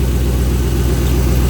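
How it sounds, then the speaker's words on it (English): A rebuilt 2005 Ford Mustang GT with a loud exhaust idles close by, a deep, steady, throbbing V8 rumble that holds even throughout with no talk. "Engine sounds pretty good."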